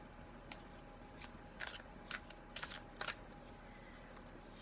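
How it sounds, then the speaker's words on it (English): A deck of tarot cards shuffled by hand, soft papery riffles and flicks coming in quick irregular bursts, close but faint, over a low steady room hum. "As always, I'm shuffling live on camera"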